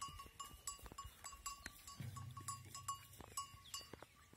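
A goat on a farm bleats once in a short, low, wavering call amid quiet outdoor background with faint clinks and rustles, near but soft.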